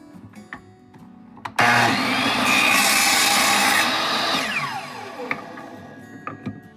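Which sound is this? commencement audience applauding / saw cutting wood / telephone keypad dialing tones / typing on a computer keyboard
saw cutting wood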